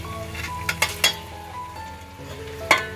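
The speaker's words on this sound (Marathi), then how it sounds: "आता कोलंबी घालते आतमध्ये" Prawns marinated in masala tipped into a pan of thick, sizzling gravy, giving a steady close fry with a few sharp clinks and scrapes of utensil against the pan.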